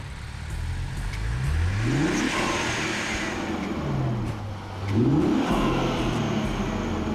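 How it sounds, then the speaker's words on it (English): A 2017 Infiniti Q50 engine, just back together after a radiator replacement, revs twice from a steady idle, each rise swelling and falling back, heard close and alone. "Give it a little rev."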